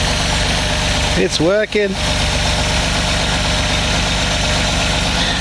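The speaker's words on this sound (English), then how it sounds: "It's firing on all cylinders." A Reliant Scimitar engine with a newly fixed misfire idles steadily on a base carburettor tune, a close, continuous rumble throughout, with a brief spoken remark over it partway through.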